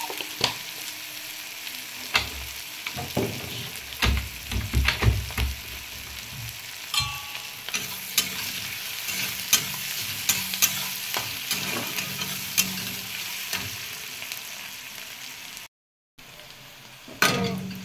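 Onions and chopped vegetables lightly frying in oil in a pan, with a steady sizzle and repeated stirring and scraping, plus a few sharper clinks of the utensil against the pan, close by and without speech.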